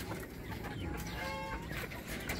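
Pure US Silkie chickens of the Jackson head type, kept in pairs, clucking softly close by, a few short murmuring clucks and a brief squawk over a noisy pen background.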